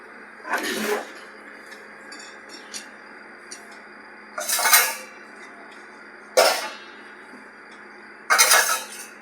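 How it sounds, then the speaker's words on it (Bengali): Vegetables being cut in a home kitchen: four separate crisp, noisy bursts of chopping or slicing spaced a couple of seconds apart, close up, with quiet room tone between and no talk. "এবার আমি সবজিগুলো কেটে নিই"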